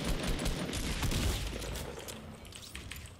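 Rapid bursts of gunfire in Fortnite: Battle Royale crackle and boom in quick succession, loud at first and thinning out toward the end, with no talking.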